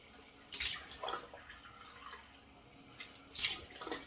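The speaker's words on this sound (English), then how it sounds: "So I'll turn my sink back on here, the cold water." Cold water runs from a bathroom sink tap, with two bursts of splashing a few seconds apart as water is cupped and thrown onto a face, over a low steady trickle.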